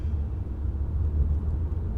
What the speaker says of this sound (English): It is a condenser microphone, which means that it also picks up a lot of the car noise,